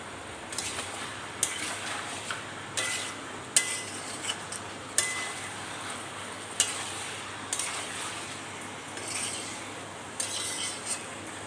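Chopped onions being added and stirred into chicken curry frying in a pot, a constant sizzle under repeated sharp scrapes and clinks of a spoon against the pan.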